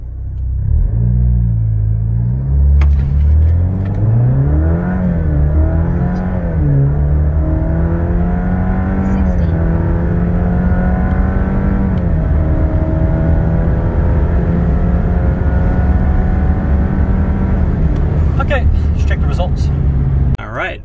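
An Alfa Romeo Giulia 2.0 with a JB4 piggyback tune accelerates hard from the driver's seat, its engine droning loud and rising through the gears in steady climbs with brief shift dips, continuous for the whole stretch.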